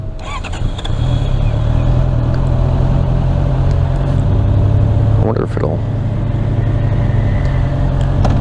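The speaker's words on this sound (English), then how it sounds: "I think I have to hold the clutch in to get it to initially go." A 2024 Honda CBR650R motorcycle runs at close range, a steady loud engine drone that holds through the moment of pulling away, with someone talking over it.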